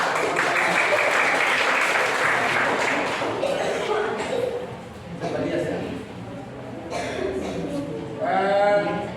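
Students in a classroom clap for a presenting group, a continuous busy patter of applause mixed with chatter and children's voices, swelling slightly toward the end.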